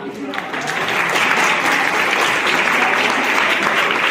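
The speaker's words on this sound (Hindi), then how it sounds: "तालियां इनके लिए।" Schoolchildren at a village children's assembly held at a government inter-college in Kausani clap loudly and steadily. Scattered voices carry beneath the sustained applause.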